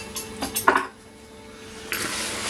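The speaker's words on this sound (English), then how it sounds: "Give it a good stir" Metal spoon scraping and clinking against a bowl while melted butter is stirred into crushed Biscoff biscuit crumbs, a few brisk knocks then softer scraping, close and clear.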